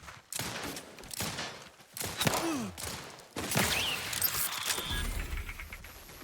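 Gunfire at a gate in The Outer Worlds 2, loud bursts of rapid shots broken by short gaps, with a sharp high whine and a low rumble near the end.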